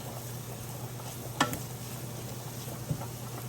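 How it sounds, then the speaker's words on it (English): Sliced onions caramelize in a pan over medium heat, a faint steady sizzle with a constant low hum underneath and a couple of soft clicks or stirs standing out. "Medium heat on my slow eye is going to make perfect caramelized onions"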